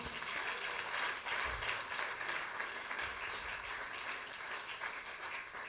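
A church congregation applauds and cheers in acclaim of the king of kings, a steady, dense wash of clapping and crowd noise that stays loud throughout without pause.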